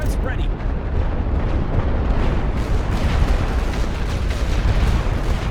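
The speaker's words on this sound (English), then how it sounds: "Mortar's really giving it some" Mortar fire from a Great War Western Front strategy game pounds continuously in heavy overlapping booms and rumbling bursts, a dense loud barrage with no pause.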